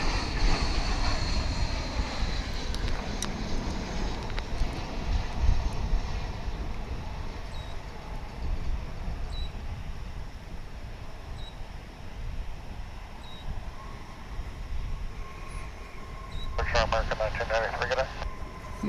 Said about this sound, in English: Here comes American Flight 744 coming in from Oklahoma City